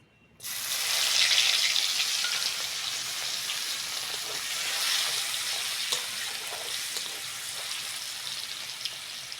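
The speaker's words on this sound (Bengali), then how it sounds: "ওই তেলের মধ্যে থেতো করা রসুন দিয়ে দেবো" Crushed garlic dropped into hot oil bursts into a sudden loud sizzle. The frying then settles into a steady, bright crackle that continues for several seconds with no talking.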